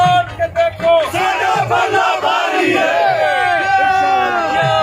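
A crowd at a Pakistan Tehreek-e-Insaf convention in Mansehra chants party slogans loudly and close by, voices rising together in rhythmic, sustained shouts with an excited, roaring edge.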